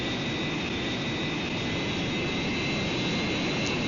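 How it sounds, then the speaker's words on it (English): Jet aircraft engine roaring steadily at takeoff power in the Lock On flight simulator game, a constant loud whine and rumble with no breaks. "you are cleared for takeoff"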